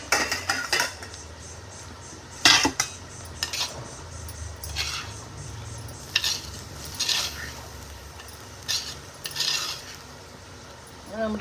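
A metal spoon scrapes and clanks against a pan as horse gram is stirred and dry-roasted, producing irregular bursts of clatter over a low, steady background rustle.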